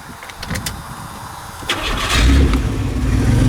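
A 1996 Chevrolet Lumina demolition derby car with heavy, viscous oil cranks for a second and a half before its engine catches and settles into a loud, rough idle close by.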